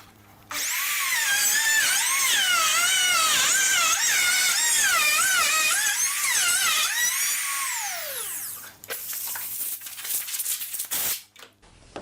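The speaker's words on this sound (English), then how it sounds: "And I probably should be using a bigger router for this. I'm kind of pushing the capacity of this little Bosch Colt." A small Bosch Colt router cuts a wood template, a loud high whine that warbles and shifts pitch continuously for about eight seconds under load, then winds down and leaves scattered knocks and handling noises.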